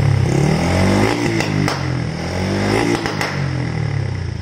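A Honda Wave 110i motorcycle with an API box fitted, run in normal throttle mode, revs up and drops back several times, a close, loud buzzing engine note that rises and falls with a few clattering snaps.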